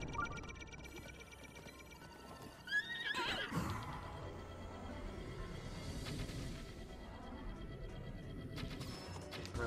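A horse in the video game Horse Catcher neighs sharply amid clip-clopping hooves, a close whinny followed by rustling footsteps and clattering hoof sounds over a busy game soundscape with a brief crashing impact.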